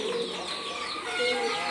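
Pigeons on a farm coo softly while feeding at scattered grain, a steady low murmur of bird calls lasting throughout at a moderate distance.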